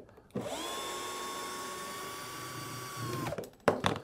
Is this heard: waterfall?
no